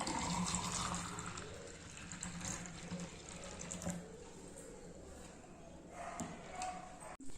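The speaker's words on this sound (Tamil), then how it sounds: "ஆப்பிள் ஜூஸ் பாருங்க, ஊத்துறேன்." Apple juice poured from a container into a glass, a steady trickling splash running for several seconds, close and moderately quiet.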